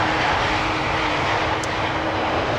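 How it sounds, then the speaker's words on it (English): A China Southern Cargo Boeing 777 freighter arriving at Amsterdam Schiphol Airport, a loud, steady jet engine roar filling the air without letup, with no voices. "this is a loud 777 freighter, China Southern Cargo, arriving from Shanghai"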